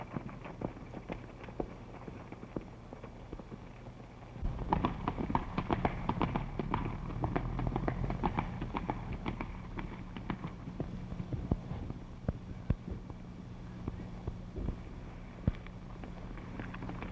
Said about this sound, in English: Take my horse, Brooks.